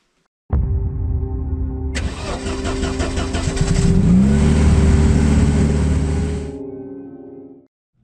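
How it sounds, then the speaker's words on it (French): A car engine starts, then revs and pulls up through rising speed in steady gear changes, loud and close with no talking, before cutting off. "ce sera des changements de rapport parfaits que je vais vous montrer"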